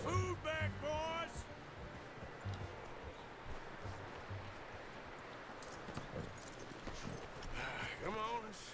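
Hooves of Taima, a horse being hitched after a hunt, clop unevenly at close range under a voice, with rustling and footfalls in the background.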